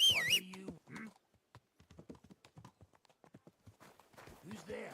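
Horse hooves clip-clopping in a video game, a steady run of light, hollow knocks that continues under in-game voices speaking at the start and end.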